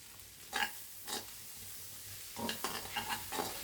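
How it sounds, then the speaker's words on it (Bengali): Fried river shrimp is stir-fried with spice paste in a pan for shrimp bhuna. Several scraping stirs come over a low, steady sizzle, close and fairly quiet. "আমি মাছটা সম্পূর্ণ কষিয়ে নিয়েছি মশলার সাথে চিংড়ি মাছটা ভাজা ভাজা হয়ে গেছে।"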